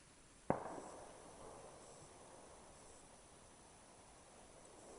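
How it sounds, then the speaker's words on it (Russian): A single sharp gunshot cracks once in the distance during autumn grouse hunting in a forest, followed by a fading echo over a quiet background hiss, with light drizzle falling. "Одиночные выстрелы."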